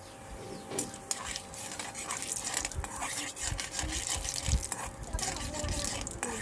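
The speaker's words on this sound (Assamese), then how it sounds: "জিৰা ফুটাই ল'ম।" Mustard seeds and cumin crackling and spluttering in hot oil in a kitchen pan, a steady dense fizz with scattered sharp pops and a few louder bursts throughout.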